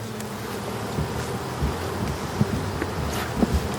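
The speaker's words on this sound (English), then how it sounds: "I'm going to let him shake the bees off of this frame" Honey bees shaken off a brood frame into a plastic tub make a continuous busy hum and buzz at a nuc production yard, steady and close with faint rustling and no talk.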